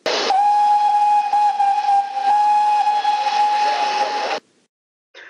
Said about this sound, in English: That was a very loud whistle.